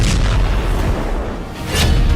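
A blast at an Israeli missile depot struck by Hezbollah rolls out as heavy, rumbling booms, with a sharp burst near the start, another toward the end and a continuous low roar between.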